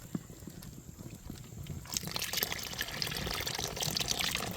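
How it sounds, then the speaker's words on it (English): Hot water is poured into a thick, starchy coconut milk mixture cooking outdoors, a steady splashing pour that starts partway through over faint background noise. "I'm going to add some hot water to this"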